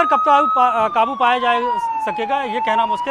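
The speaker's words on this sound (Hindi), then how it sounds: "फायर ब्रिगेड की जो गाड़ियां उनका सायरन किस तरीके से बज रहा है" A reporter talks over wailing fire engine sirens at a fire at an electricity office in Raipur, sweeping steadily up and down in pitch, loud and continuous behind the voice.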